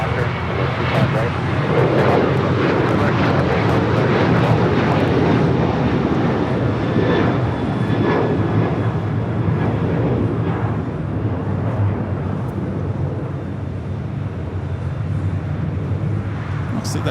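American Airlines jet on its takeoff roll from runway 25 right at LAX, a loud, steady engine roar lasting throughout with a broad rumble, while a voice talks over it.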